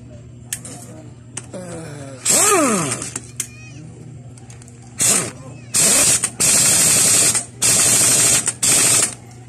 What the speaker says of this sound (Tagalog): At siyempre, huwag natin kalimutan higpitan ng ating magneto.